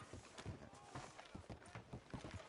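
Horse hooves clip-clop at a steady walking rhythm in the Red Dead Redemption 2 video game, close and fairly loud, with a town's background murmur underneath.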